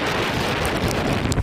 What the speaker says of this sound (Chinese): 雨势呢根本可以说是风强雨骤